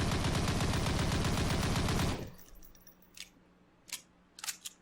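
WW2 gun fired from the hip in a Unity game asset pack: a dense, loud rapid burst of automatic fire for about two seconds, then quiet mechanical clicks and clacks of handling.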